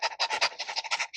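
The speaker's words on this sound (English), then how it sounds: "He literally started panting like a dog, like a dog in heat, like a dog who's hungry." A man pants like a dog in quick, rhythmic breathy bursts, about a dozen short huffs in close succession, loud and near with no talk.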